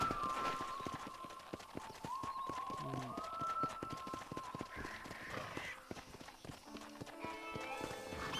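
Horse hooves in the video game Red Dead Redemption, a quick run of rhythmic clip-clop footfalls mixed with faint game music and ambience.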